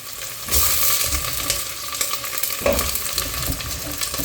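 Pork ribs fry in a hot pan for Filipino adobo, giving a steady close sizzle that swells sharply as the meat goes in, with faint stirring underneath.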